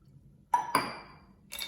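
Two pieces of ice dropped into a glass holding a fennel seed sherbet, two quick bright clinks close together followed by a fainter clink a moment later, in an otherwise quiet room.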